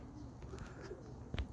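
Roller pigeons coo outdoors in hot weather, low soft cooing over a steady background, with a brief thump near the end, faint and short.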